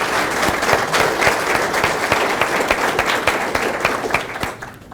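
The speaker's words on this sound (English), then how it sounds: "Give a big round of applause to Mark from the Satanic Temple." Audience applause for a debate guest from the Satanic Temple at a live religion debate event, dense sustained clapping from a crowd filling the whole stretch at steady loudness.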